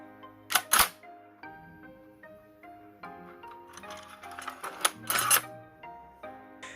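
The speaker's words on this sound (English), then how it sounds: "You just pull it back and it racks forward." The bolt of a CYMA M14 airsoft rifle is pulled back and snaps forward, giving sharp metallic clacks close by, with a few further clicks and rattles against faint background tones.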